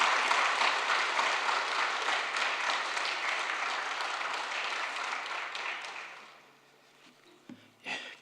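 A church congregation applauds to welcome a pastor at an anniversary revival service, a dense, sustained clapping that fills the room for about six seconds, then fades out, leaving a brief quiet stretch and a short thump near the end.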